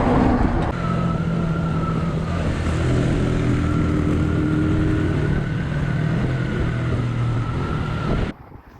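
Motorcycle engines hum and rev steadily as bikes ride past road blockades in Peru, with wind noise throughout and a sudden cutoff near the end.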